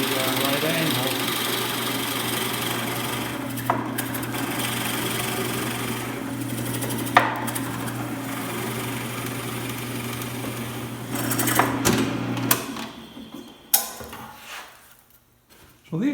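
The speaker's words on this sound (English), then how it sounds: "I'm going to drill at an angle here using the blocks of wood to give me the right angle" A power drill drilling wood at an angle: a steady, high motor whine drones for about twelve seconds with a few brief clicks, then winds down and stops near the end.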